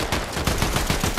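Gunfire in the video game Fortnite, a rapid series of loud close shots in an irregular burst, filling the whole moment with no talking.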